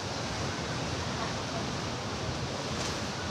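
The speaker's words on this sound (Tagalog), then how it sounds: "Ang lakas pa ng alon." Strong sea waves driven by monsoon habagat wind near a seaside village, a loud continuous roar of surf and wind, unbroken and close.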